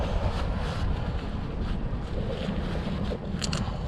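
Steady, loud wind roar buffets the microphone while riding a BMW 1250GS adventure motorcycle, a dense broadband rush with no speech over it.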